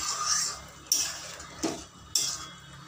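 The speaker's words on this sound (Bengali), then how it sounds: "ভালো করে মিশিয়ে নেব।" Star fruit chutney with sugar is mixed in a pan, a spoon knocking and scraping against the metal in three or four distinct clinks over a low background, close and fairly quiet.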